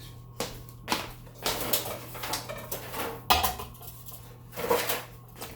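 A casserole dish being handled in a home kitchen, with scattered clinks, knocks and scrapes of dishware and utensils, close and moderately loud in uneven bursts.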